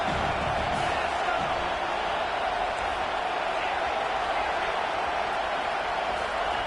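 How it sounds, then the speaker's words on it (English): A football stadium crowd swells into a dense, steady roar of cheering that fills the whole stretch without a break, loud and spread wide like a packed stand rising to its feet. "This crowd rising up, sensing that its defense needs some help."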